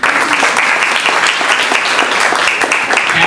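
Dense, continuous audience applause fills a commendation ceremony for Brendan Fay at the Comptroller's office, loud and steady from start to finish with no pause.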